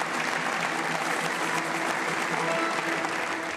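An audience at a sports award gala applauds steadily to welcome a speaker, a dense, even wash of clapping hands lasting throughout.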